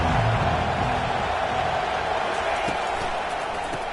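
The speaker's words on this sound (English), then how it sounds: "This crowd bringing the energy and noise early." Broad roar of a large crowd in a stadium at an Alabama game, constant and loud, with a low murmur of voices blending into the din.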